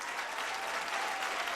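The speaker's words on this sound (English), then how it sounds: "Y'all give yourselves a round of applause" A comedy club audience claps for itself, a dense, even burst of many hands clapping at once that carries steadily through the short moment.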